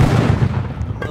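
A rocket launcher fires in a Roblox shooting game, a loud, booming, close blast whose rumble rolls on and fades for about a second.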